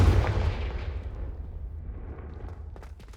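Hogwarts Legacy Confringo blasting spell explosion, a single loud booming blast up front that rumbles and decays over a few seconds, followed by faint crackles.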